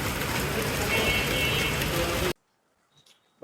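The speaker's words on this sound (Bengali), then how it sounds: "বছরের প্রথম বৃষ্টি শুরু হয়ে গেছে" Rain falls steadily, a loud dense patter on surfaces close by that stops abruptly after about two seconds, leaving near silence with a few faint sounds.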